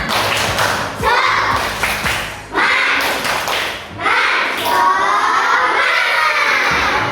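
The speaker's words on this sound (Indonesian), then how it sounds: "Tepuk semangat dulu." Classroom of children clapping and shouting together in a rhythmic tepuk semangat chant, with loud bursts of claps and voices coming in repeated phrases.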